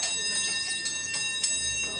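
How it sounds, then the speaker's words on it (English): A morning bell rings at a volunteer relief depot, heard as a few bright, ringing strikes about a second apart over a steady background hum, fairly distant and mixed with faint room noise. "At the sound of the morning bell,"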